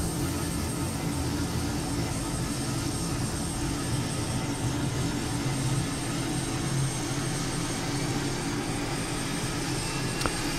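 Twin engines of an SC Designs F-16 in Microsoft Flight Simulator 2020 spool up toward 20% RPM, a steady, loud, broadband jet roar and whine that holds constant throughout with no talking.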